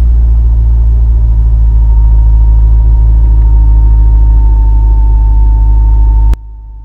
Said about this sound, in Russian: Как мы слышим, обороты забольшие, но уже полегче все-таки.